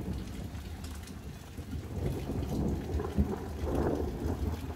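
A heavy thunderstorm after a drought, with steady rain hissing on surfaces and a low, continuous thunder rumble that swells toward the end, no voices.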